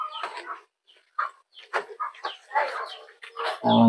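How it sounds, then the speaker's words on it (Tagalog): Racing pigeons, lap and derby-winning speed birds, give short, scattered bird calls and clucking sounds in uneven bursts, with a louder, closer burst at the very end. "Ang mga kalapati ni Boss RD."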